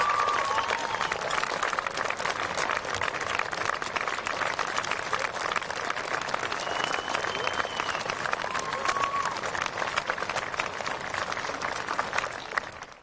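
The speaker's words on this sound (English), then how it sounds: "Let's stand and applaud our parents, family, and friends that have done such a great job for us" A standing audience at a 1999 high school graduation ceremony applauds, producing dense, sustained clapping from a large crowd that stays loud and even for about thirteen seconds.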